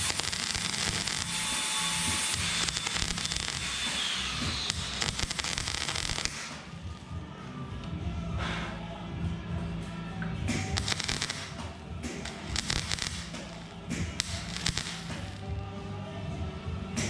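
Welding on the floor of a Land Rover Series 1, a dense crackling sizzle with irregular popping bursts that continues steadily, then turns into shorter intermittent spurts with pauses between them.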